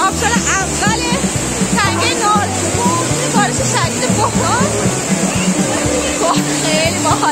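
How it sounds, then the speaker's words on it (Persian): A waterfall in Narenjbon gorge near Nowshahr pours down during heavy rain, a loud, steady rushing roar that fills the whole stretch while several people talk and call out over it. "رسیدیم به آبشار اول تنگه نارنجو"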